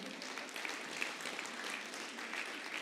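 A church congregation applauds in a steady, dense wash of clapping that holds at an even, moderately soft level throughout.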